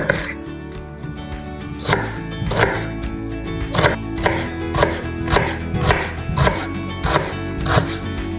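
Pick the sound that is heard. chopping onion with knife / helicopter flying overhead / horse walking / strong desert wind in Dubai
chopping onion with knife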